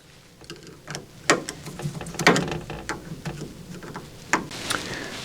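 Close-up mechanical work on the belt clamps of a Prusa XL 3D printer, a Torx driver loosening long screws: scattered small ticks, clicks and metallic taps, a few sharper knocks, no talking.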